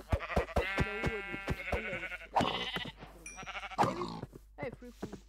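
Sheep bleat in a blocky sandbox video game, several wavering calls in a row, loud and close, while a person talks over them.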